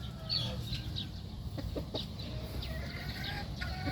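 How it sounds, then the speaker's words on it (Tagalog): Yellow-legged lemon-coloured broodcock chickens cluck in short soft calls over a steady low background hum, moderately near and fairly faint. "Tapos ito yung sinasabi kong broodcock na naka-pungus na."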